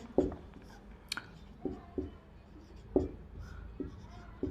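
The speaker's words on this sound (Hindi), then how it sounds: "तो हम लोग लिख लेते हैं" Pen scratching across paper during a lesson on DC generator losses, with short strokes in irregular bursts, close and moderately quiet, and no talk over it.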